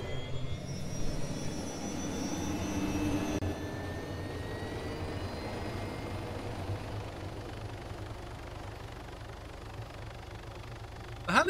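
A helicopter engine in the video game DayZ drones steadily with a continuous turbine whine and rotor hum, moderately quiet and even throughout, ending with a brief sharp click.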